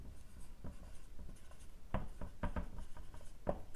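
Chalk or marker scratching across a classroom board in short strokes and taps, close and fairly quiet, writing out chemistry notes with no talk in between.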